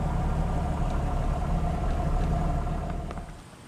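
A Jeep XJ fitted with Wagoneer 44 axles idles after its hand throttle is backed off. The low, steady engine rumble holds close and constant, then eases and fades slightly at the end, with no speech.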